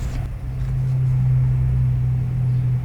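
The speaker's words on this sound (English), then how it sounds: "a truck passing by." A truck rumbles past on the road, with a deep, steady low engine drone that swells and holds for a few seconds, fairly loud and close, with no talking.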